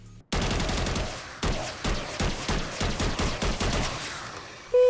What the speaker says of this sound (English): A lot of blueprints they made for Modern Warfare 3 have custom noises when you sound, and this one sounds pretty scary.